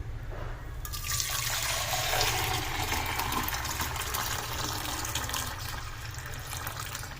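Hot water poured from a pot on the stove into rice porridge (kanji) in a clay pot, a steady continuous pouring and splashing that starts after a brief pause and runs close and fairly loud, with no talking.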